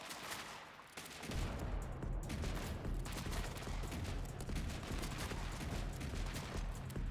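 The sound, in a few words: rocket fire and explosions in a video game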